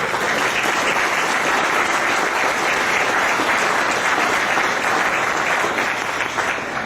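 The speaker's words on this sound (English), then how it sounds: "will you please give Wesley Twist a round of applause?" A company AGM audience gives a sustained, even round of applause, thick, continuous clapping that stays at full strength for nearly seven seconds without pause.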